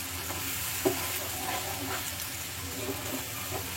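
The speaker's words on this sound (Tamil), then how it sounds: "நல்லா மிக்ஸ் பண்ணி வச்சுக்கலாம்" Fresh ground masala sizzles in a frying pan for chicken kulambu curry, a constant close hiss with soft scraping as it is stirred and mixed, and no speech.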